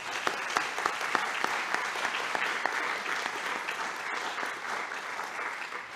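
Steady, dense applause from an audience, many hands clapping at once, sustained evenly throughout with no voices standing out.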